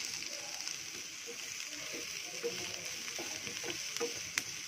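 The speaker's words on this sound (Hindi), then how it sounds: "अब हम इसमें डालेंगे अनियन, उसको भी एक बार फ्राई कर लेंगे।" Chopped onions fry steadily in a pan for masala upma, a continuous close hiss with faint scrapes of stirring and small pops throughout.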